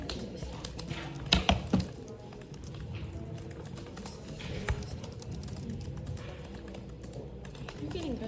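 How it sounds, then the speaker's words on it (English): Fingers tap on a computer keyboard in short bursts of clicks, faint and intermittent under people talking nearby. "You're getting better at typing"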